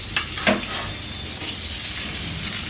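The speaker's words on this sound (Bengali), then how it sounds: "এবার আমি জিরে ফোড়ন দিয়ে আলুটাকে আমি ভেজে নিচ্ছি" Potatoes frying in hot oil with a cumin tempering, a dense steady sizzle throughout with a couple of sharp clinks of a utensil near the start, close and alone with no talk.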